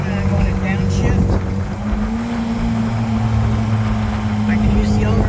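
A 1969 Triumph Spitfire driving through twisty roads with overdrive engaged, its steady engine drone heard from inside the car at a constant loud level, with little change in pitch.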